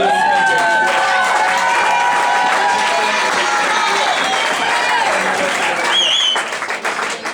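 A church congregation claps and cheers for the Lord, a loud sustained roar of applause mixed with raised singing and shouting voices, easing off only near the end.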